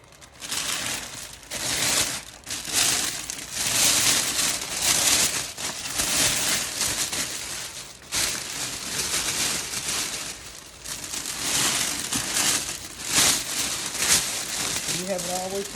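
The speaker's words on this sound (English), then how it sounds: "the cellophane bag" Cellophane gift bag crinkling continuously as it is drawn up around an Easter gift basket, loud and close, with brief pauses and a short voice near the end.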